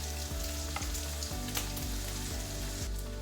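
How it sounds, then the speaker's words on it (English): Steady, dense sizzling and crackling of bacon frying in a pan, continuous and close, with occasional faint scraping clicks. "We're sizzling some bacon here"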